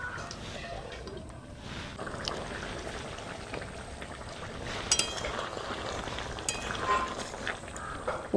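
Yam and prawn curry simmers in a pan on low heat, a soft bubbling and sputtering with scattered faint clinks and small pops throughout.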